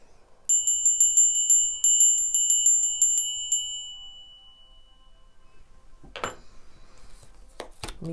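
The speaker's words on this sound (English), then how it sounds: "I did not ring my bell. Let's do it now." A small bell rung repeatedly in quick, bright rhythmic bursts, two runs of rapid ringing with a clear sustained tone, followed by quiet and a few faint rustling knocks.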